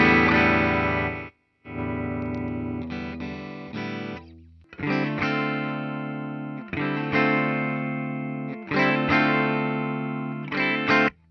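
Gibson Les Paul Professional electric guitar on its neck pickup, selector in position 1, rings out loud sustained chords through a distorted, effected amp, struck in separate bursts with short gaps between them.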